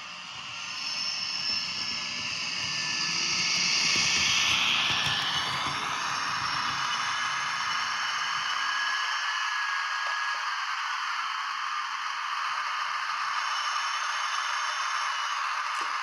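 A Märklin DSB MR BR 628 digital model train runs with a steady electric hum and hiss, then brakes with a rising squeal and whine that fades into a thinner sustained tone, close and continuous with no talking.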